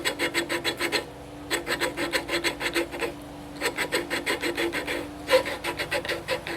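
Rhythmic gritty rasping of a valve on a McCormick-Deering M tractor engine being lapped with grinding compound, bursts of rapid back-and-forth strokes separated by brief pauses, close and steady, growing quieter as the grit breaks down.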